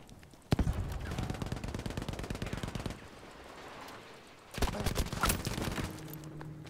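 Rapid automatic gunfire in Battlefield V, two long bursts of fast repeated shots separated by a quieter gap, loud and close, with a brief voice in the background.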